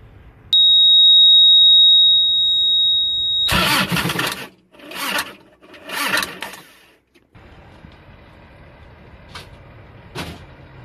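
A truck reefer unit's engine, with a low battery, tries to start: a steady electronic beep first, then three loud cranking bursts separated by pauses, followed by a quieter running drone and a sharp click.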